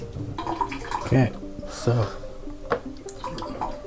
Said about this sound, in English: I'm gonna rinse it. So I just have a tray of water here.